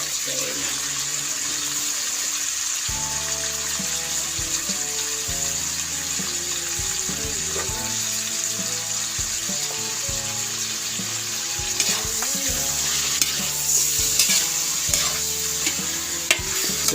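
About 5.5 kilos of fresh chicken sizzles and fries in a pot for sinigang na manok, a steady loud hiss with stirring clatter and background music throughout.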